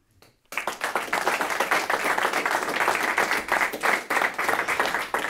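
A studio audience at a talk show about sailing claps in sustained applause that starts abruptly after a brief pause and stays dense and steady throughout.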